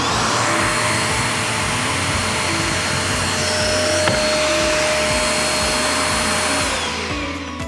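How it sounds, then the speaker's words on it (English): A Clean Air upright vacuum cleaner runs after its thermal reset, a loud, steady motor roar and whine held close up throughout before it starts to taper off at the very end. "I'm gonna push the reset button and you'll hear the vacuum turn on."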